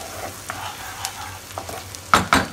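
Chopped garlic fries in hot oil with a close, continuous sizzle, broken by a few stirring scrapes and a louder clatter of spatula on pan near the end, and no talking.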